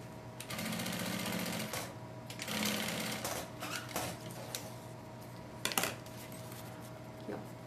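A domestic sewing machine runs in short bursts of rapid stitching while bias binding is sewn onto a fabric pouch, with quieter handling clicks and rustles between bursts, close and fairly soft.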